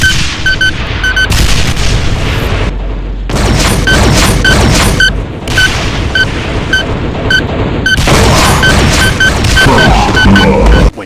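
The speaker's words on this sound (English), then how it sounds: "or a dual volley of homing rockets." Cyberdemon in a Doom mod firing a dual volley of homing rockets, a dense, continuous barrage of loud blasts and booming explosions with repeated sharp launch impacts throughout, no talking.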